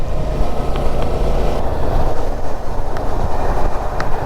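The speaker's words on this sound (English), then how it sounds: "Wow, it's a train going there." A train rumbles past close by, a dense, loud, continuous roar of wheels and wind with faint higher squeals, and no voices.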